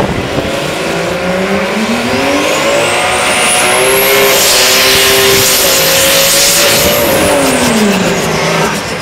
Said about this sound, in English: is this a real burnout